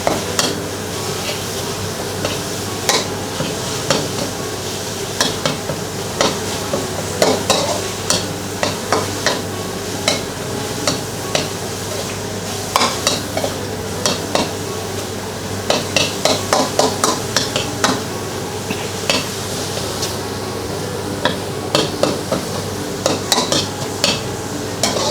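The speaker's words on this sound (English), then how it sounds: "It's almost as if you're browning off minced beef for a ragu sauce." Minced duck sizzles in a hot wok while a utensil stirs it, making repeated clattering scrapes over a steady frying hiss.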